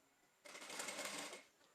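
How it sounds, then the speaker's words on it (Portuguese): A sewing machine runs in one short close burst of rapid stitching, sewing along a marked line to round off the edge of a fabric flap. "eu faço a costura em cima da marcação que a gente fez pra ficar a beiradinha redonda"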